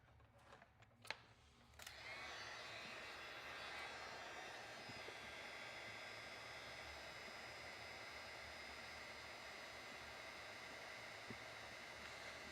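A hair dryer blowing on wet paint on a pink flamingo painting; a few clicks and handling knocks, then the dryer switches on into a steady, close, even whooshing hiss that continues unbroken to the end.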